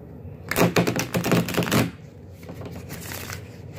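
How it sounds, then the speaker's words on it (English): Tarot cards shuffled by hand in a quick, loud burst of rapid riffling flicks up close, followed by softer, quieter card handling and rustling. "Couple more shuffles in there."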